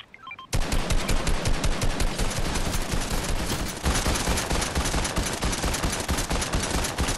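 Sustained rapid automatic gunfire in Fortnite, loud and dense, starting abruptly after a brief quiet moment and continuing nonstop as a relentless rattling stream.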